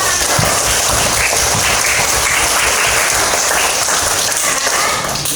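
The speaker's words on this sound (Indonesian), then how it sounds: "Betul, tepuk tangan." Students in a classroom clap loudly and close by, a busy, uneven burst of many hands that continues without a break.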